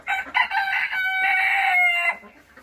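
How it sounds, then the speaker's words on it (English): A backyard rooster crows loudly and close by, one long drawn-out cock-a-doodle-doo with a choppy start, heard alone without talk. "Interrupting rooster?"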